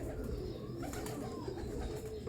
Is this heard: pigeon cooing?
yes